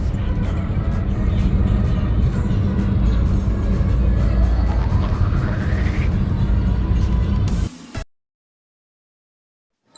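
Low engine rumble and road noise inside a moving car carrying cousins and their dad in Kota Kinabalu, Sabah, steady and close with a rising whine, before it drops to near silence.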